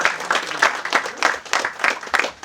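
Audience at a Hindi poetry gathering (kavi sammelan) breaks into steady, enthusiastic applause for a poet, a dense wash of many hands clapping close and continuous with no talk over it.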